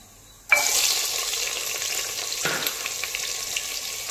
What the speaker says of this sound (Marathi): कांदा छान असा आपल्याला सॉफ्ट होईपर्यंत परतवून घ्यायचा आहे